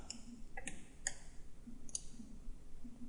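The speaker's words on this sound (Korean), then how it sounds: "더블 클릭하겠습니다." A computer mouse clicks in quick sharp pairs, close and fairly quiet, with three or four double-clicks spaced about half a second apart over faint room hiss.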